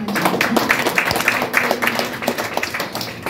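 A church congregation claps for the Lord in a steady, rapid patter of many hands that stays fairly loud and close throughout, with faint talk mixed in beneath the clapping.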